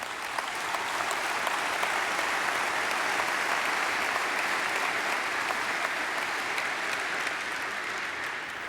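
A large auditorium audience applauds continuously at a talk on ending Ebola, dense and even clapping that holds for the full stretch without a break.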